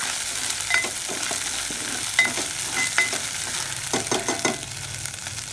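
Ginger garlic paste frying in hot oil for mirchi bajji, a soft steady sizzle broken by scattered clinks and scrapes of a spoon stirring the pan, with no talking.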